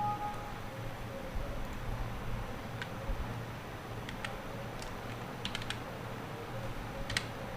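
Fingers tapping keys on a computer keyboard while entering a captcha, sparse light clicks scattered irregularly over a steady low background hum, fairly faint and without talk.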